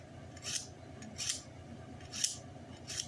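A knife trims and portions beef filet steaks from scratch, giving four crisp, evenly spaced slicing strokes against a quiet background.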